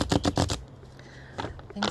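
Tarot cards being shuffled close by, in a few quick papery riffling bursts at the start and again briefly later, with quiet pauses between.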